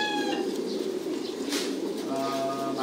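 Pigeons at a pigeon farm coo in low, throaty murmurs against a steady hum of many birds, with a brief flutter of wings and faint chirps in the middle, moderately near.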